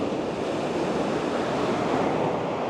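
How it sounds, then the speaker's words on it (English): Ocean surf breaks on a California beach, a steady, loud wash of foam and rolling water that fills the whole stretch without pause, with some wind rumble against the microphone. "Beautiful waves."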